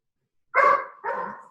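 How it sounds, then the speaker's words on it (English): A dog barks twice at a steak cooking in an Instant Pot, two close, loud woofs in quick succession with silence before. "There's a steak in the Instapot, which is what girlfriend is barking at because she thinks it's hers"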